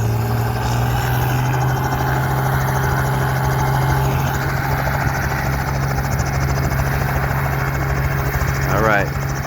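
A helicopter idles at a busy airport ahead of take-off, its engine giving a steady, fairly loud droning hum throughout, while a brief rising whine sweeps up near the end.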